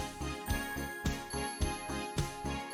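Bells jingle in a steady rhythm, one shake about every half second, bright and close with nothing else heard around them.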